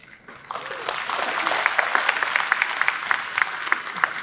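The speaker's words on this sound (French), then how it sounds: "Nous sommes bien contents de nous applaudir" Audience applauding at a political gathering, a dense steady clapping that rises from near silence and carries on at even strength, with a few voices mixed in.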